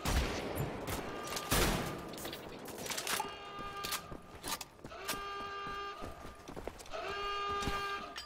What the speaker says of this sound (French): Qui c'est qui me tire dessus comme ça?